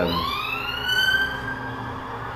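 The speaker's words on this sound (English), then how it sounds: "that's a siren, but they're not coming for me" An emergency siren in the video game Marvel's Midnight Suns wails with a sweeping, rising tone, fairly close and steady over low background rumble, with no talking.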